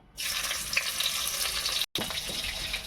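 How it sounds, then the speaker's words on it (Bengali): Sugar and green chillies land in hot oil and set off a loud, steady hiss of frying. It is broken by a split-second gap and then carries on with no voices. "তেল গরম হয়ে গেছে, চিনি দিয়ে দিচ্ছি। দিয়ে দিচ্ছি কাঁচা লঙ্কা"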